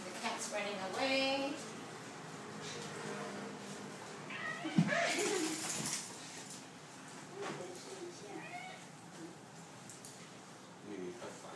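A cat meows a few times at close range while dogs are brought to meet it, with people talking around it and brief thumps.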